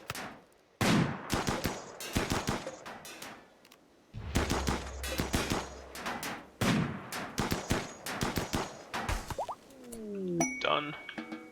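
Turret fire in RimWorld: bursts of sharp game gunshots in rapid clusters, loud and close, with pauses between volleys and a few clanging impact tones near the end.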